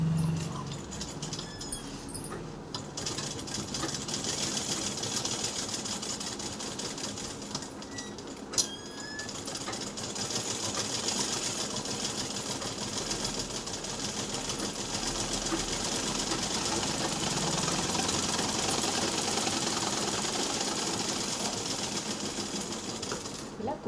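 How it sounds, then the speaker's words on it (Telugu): A sewing machine runs steadily while stitching fabric at a garment shoulder, a continuous close mechanical whir lasting the whole stretch with a couple of faint clicks. "ఇలా కుట్టు వేసేసుకోవాలి."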